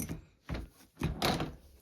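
Small storage drawers are pulled out and clicked back into place, several hollow plastic thunks and clicks spaced about half a second apart, fairly quiet and close.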